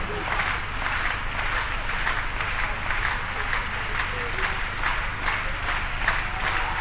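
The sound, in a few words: crowd applauding at athletics high jump championship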